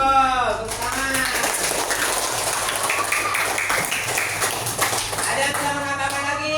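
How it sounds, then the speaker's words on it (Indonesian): Students in an Indonesian classroom applauding a classmate's answer, a dense, steady patter of many hands at moderate loudness, with a voice speaking at the start and end over it. "Kasih tepuk tangan"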